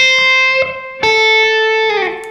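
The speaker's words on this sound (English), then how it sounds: "I use a little bit of slapback delay" Electric guitar playing single sustained notes from a blues-country pentatonic lesson, each pick attack followed by a quick slapback delay echo; several clear, ringing, close-up notes with no talking.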